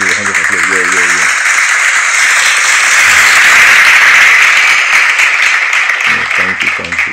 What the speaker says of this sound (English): Let's give a hand of applause.